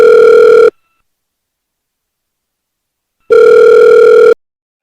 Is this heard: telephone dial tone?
yes